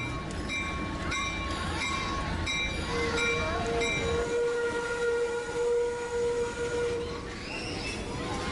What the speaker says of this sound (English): Many people wave at the train as it comes to a stop.